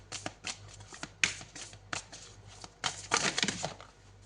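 Tarot cards being shuffled up close, short papery riffles and flicks in quick irregular bursts, with a denser flurry near the end.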